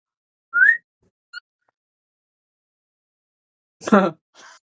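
A short rising whistle, then a faint chirp, followed later by a brief burst of voice and a soft trailing sound, with quiet gaps between.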